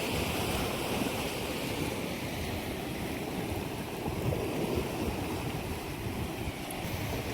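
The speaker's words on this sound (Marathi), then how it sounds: "अरबी समुद्र" Arabian Sea waves wash steadily against a rocky shore near a remote fishing spot, a continuous broad roar of surf with wind noise buffeting the microphone, loud and close, with no voices.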